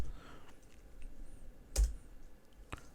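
A handful of sparse, faint keystrokes on a computer keyboard while C# code is being written, with quiet gaps between the clicks.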